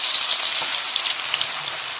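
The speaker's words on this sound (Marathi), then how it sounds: "तर हा कांदा जो आहे तो आपल्याला 5 मिनिटं असा परतून घ्यायचा आहे" Onion frying in hot oil in a kadhai over a very low gas flame for a homemade Kerala-style hair oil, a dense, even, rain-like crackling sizzle, close and steady throughout with no talking.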